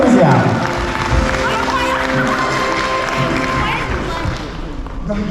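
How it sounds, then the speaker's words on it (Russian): Audience applause at a children's and youth talent contest, a broad steady wash of clapping that stays loud and even for several seconds and eases slightly at the end. "Аплодисменты, друзья!"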